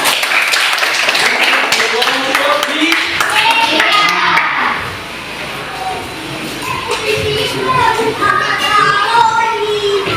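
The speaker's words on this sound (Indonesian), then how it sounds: "Ya, tepuk tangan" Students clap in a classroom, a dense patter of hands that runs for several seconds alongside children's voices and chatter, then softens and rises again under continued talk.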